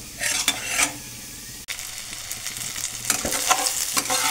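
Cashews sizzling in hot oil in a pan as they fry to golden brown, with steady crackling and a few stirring scrapes close by.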